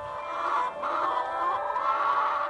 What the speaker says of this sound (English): the domestic hen